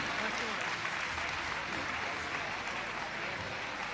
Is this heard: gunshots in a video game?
no